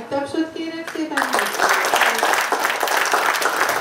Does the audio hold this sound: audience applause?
yes